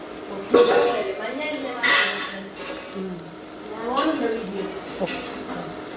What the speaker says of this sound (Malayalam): ഇത് ഫ്രൈ ആയിട്ട് ഒന്ന് തിരിച്ചിട്ടിട്ട് ഫ്രൈ ആക്കി എടുക്കുക